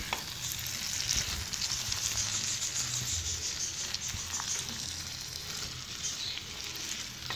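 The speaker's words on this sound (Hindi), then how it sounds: "अब हम इसके अंदर तोरियां ऐड कर देंगे। और इसे अच्छे से मिक्स कर लूँगी पहले मैं।" Ridge gourd fries in masala as it is mixed in, producing a steady, bright, close sizzle with faint stirring under it and no voices.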